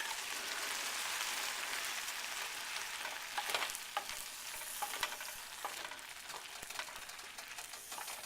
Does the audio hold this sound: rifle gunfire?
no